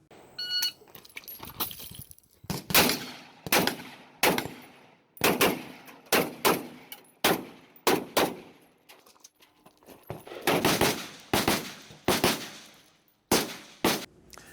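Rifle shots ring out in quick bursts at a competitive shooting range, loud and close, with sharp cracks coming in clusters of two to four and short pauses between strings of fire.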